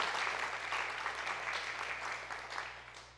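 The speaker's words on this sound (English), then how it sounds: "Oh yes, let's clap." An audience at a church panel discussion on reparations in Asheville claps for a newly introduced panelist, a soft, fairly distant patter of many hands that gradually tapers off.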